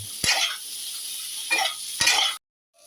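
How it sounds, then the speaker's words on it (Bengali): Cooked mung dal goes into a sizzling pan already holding green peas, for a vegetarian cauliflower curry, giving a few close bursts of hissing sizzle and stirring scrapes over a steady fry before cutting to silence. "এই যে আমার সেদ্ধ করা মুগের ডালটা ছিল আমি এর ভেতরে দিয়ে দিলাম"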